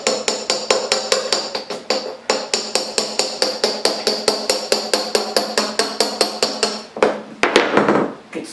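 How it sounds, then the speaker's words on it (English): Sharp, rapid chisel strikes chip excess ceramic tile pieces along a floor edge, a steady run of close, loud taps followed by a brief scraping burst and a few last knocks. "just take your chisel"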